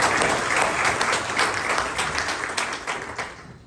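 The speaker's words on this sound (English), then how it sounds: "Please, a round of applause." An audience at a community reception for a Republican candidate bursts into sustained applause, a broad, even wash of many hands clapping that continues for several seconds and slowly thins.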